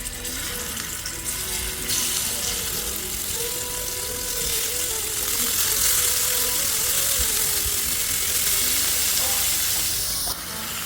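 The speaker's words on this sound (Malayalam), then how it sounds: "ഇനി നമുക്ക് ഒരു പാനിൽ അല്പം വെളിച്ചെണ്ണ ഒഴിച്ചിട്ട് ഇതൊന്ന് നമുക്ക് വറുത്തെടുക്കാം" Marinated prawns fry in coconut oil in a pan, giving a loud, steady, close hiss and crackle that runs unbroken throughout, with no talk.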